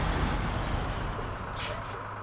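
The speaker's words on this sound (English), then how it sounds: "You hear it. You hear the truck." A heavy truck engine in the video game SnowRunner rumbles steadily at close range, with a short hiss of released air near the end.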